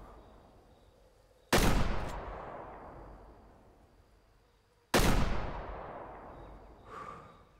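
Two loud hunting rifle shots in the Way of the Hunter hunting game, each a sharp crack with a long decaying echo, spaced a few seconds apart, heard alone without talk.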